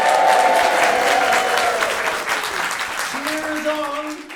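Loud applause from a theatre audience in an auditorium, a dense roar of clapping that stays strong, then eases slightly, while a voice speaks over it toward the end.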